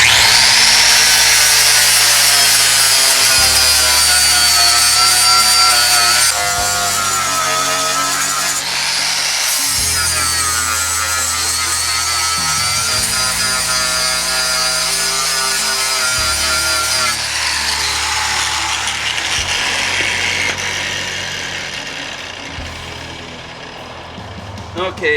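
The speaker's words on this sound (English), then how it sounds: "I use my DeWalt grinder with the flap disc 80 grit" A DeWalt grinder fitted with an 80-grit flap disc grinds through the chrome plating of a bumper, a loud, steady, close abrasive whine that runs almost without a break and shifts in pitch as the pressure changes.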